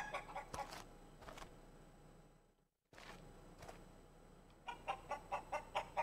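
Chickens clucking in the video game Ludus, a few clucks at the start, a brief dropout, then a rapid run of short, evenly spaced clucks near the end, fairly faint, no talk.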